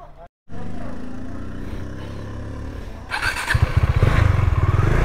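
A motorcycle engine runs steadily during a Dashain festival ride, briefly cutting out before resuming, then growing louder and rougher with pulsing revs toward the end; faint voices may sit underneath.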